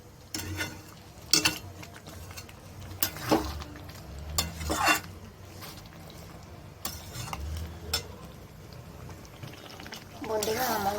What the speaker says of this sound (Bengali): আমি সব ঢেলে দিচ্ছি, নেড়ে দেবো।